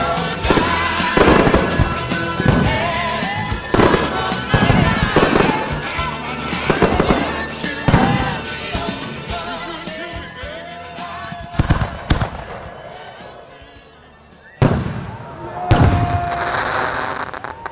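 A wedding pyromusical fireworks show booms and crackles loudly, with repeated bursts, sharp pops and sparkling crackle in quick succession, a brief lull, then further blasts; no voices stand out.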